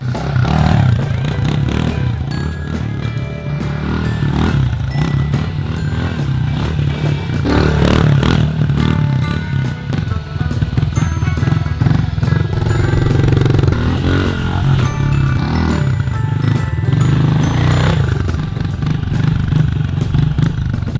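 A pit bike rides laps on a backyard track, its engine revving and droning continuously at close to mid distance, with scrapes and clatter of the ride mixed in.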